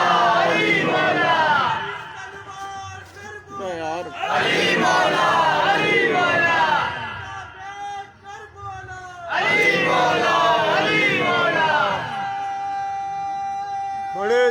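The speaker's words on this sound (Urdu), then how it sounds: "دیکھیے جب ایسے نعرے لگتے ہیں نا" A crowd at an Islamic religious gathering shouts slogans in call-and-response bursts. Three loud waves of massed voices are separated by quieter gaps, and a single lead voice comes through between them.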